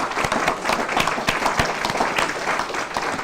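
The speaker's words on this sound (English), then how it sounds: "I hope our audience members will give both of our candidates a big round of applause." Audience at a Kansas state representative candidate forum breaks into sustained applause, dense, even and moderately loud throughout.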